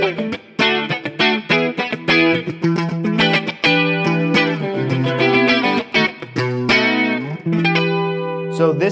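A Kiesel electric guitar is strummed and picked with its push-pull tone knob engaged for a second pickup voicing suited to clean tones, played with effects and chorus-like shimmer in steady chords and runs filling the whole stretch.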